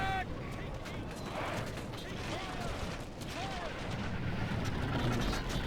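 Artillery and gunfire crackle through a video game battle, a steady dense din of distant shots and booms with brief sweeping effects, continuous throughout without clear individual blasts standing out.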